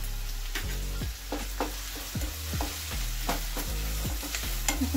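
Chopped onions with a spoonful of salt fry in a pan, a constant sizzle broken by repeated scraping stirs of a spatula against the metal, close and steady with no voices.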